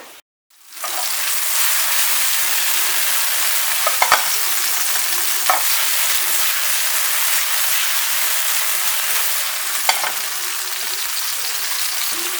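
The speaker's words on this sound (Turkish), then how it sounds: "Mantarları suyunu bırakmaması için yüksek ateşte çevireceğim." Steady, loud sizzling of mushrooms stir-frying in hot olive oil over high heat, with a few scrapes and clicks of stirring breaking through the hiss.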